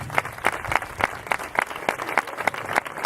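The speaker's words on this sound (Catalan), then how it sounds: "Un fort aplaudiment per tots ells i per la feina" Applause at a festival welcome presentation comes as distinct, fairly sparse claps in a quick, near-regular rhythm, close and moderately loud, like a modest group clapping over about three seconds.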